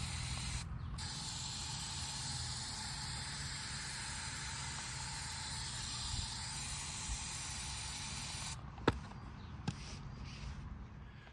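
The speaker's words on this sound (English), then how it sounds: "we'll just give it some mist" A spray bottle mists lettuce and amaranth seeds on soil in a shed, a long, steady, close hiss followed by a couple of short clicks or taps.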